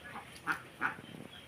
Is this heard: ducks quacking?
yes